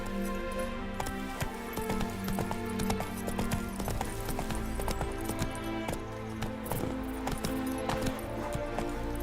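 The horse Roach galloping in The Witcher 3, a steady run of rhythmic hoofbeats with faint jingling tack, close and continuous under quiet game ambience.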